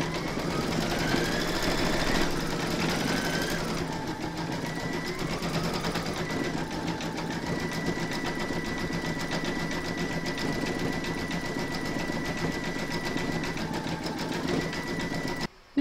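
A sewing machine stitches a large llama applique with a steady mechanical hum and buzz that shifts pitch slightly at times, running on without pause until it cuts off abruptly at the end.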